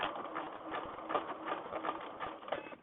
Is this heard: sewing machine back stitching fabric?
yes